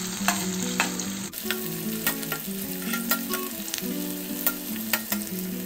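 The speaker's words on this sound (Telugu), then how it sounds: "ఉల్లిపాయలు మనకి ఫ్రై అవ్వాలి, లైట్ బ్రౌన్ కలర్ లో వచ్చేంత వరకు ఫ్రై చేసుకుందాము" Onions frying in oil toward light brown for goat liver curry, a continuous close sizzle broken by repeated spoon stirs and taps, with no talking.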